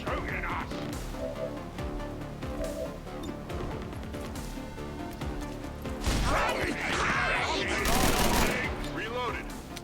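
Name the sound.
gunfire from the video game XCOM 2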